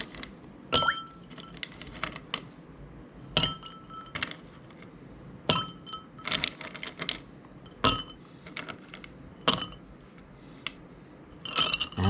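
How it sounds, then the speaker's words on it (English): Ice cubes clink and rattle into a glass of Vietnamese iced coffee, caphe sua da, in a kitchen: a string of sharp, bright glassy strikes spaced irregularly over about twelve seconds, close and clear with no talking. "So take your ice and add it to your Caphe Sua."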